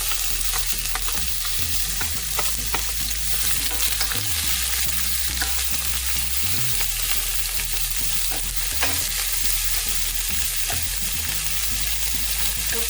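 Onions frying in two tablespoons of oil in a very hot pan: a dense, steady sizzle and crackle throughout, close and continuous with faint stirring, no speech.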